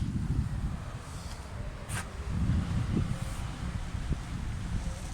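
Steady low wind rumble buffets the microphone outdoors on a beach, gusting in soft waves with a faint brief rustle, no voices.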